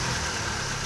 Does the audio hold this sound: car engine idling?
yes